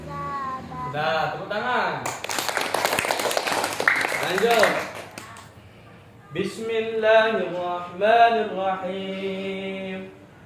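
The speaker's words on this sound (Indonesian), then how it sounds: "Sudah, tepuk tangan." Children in a Quran memorization class in Mataram clap together in a brief, lively burst of a couple of seconds, set between stretches of children's chanted recitation.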